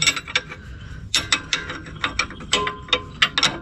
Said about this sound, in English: Ratchet on the front side here.